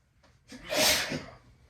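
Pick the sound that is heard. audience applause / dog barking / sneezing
sneezing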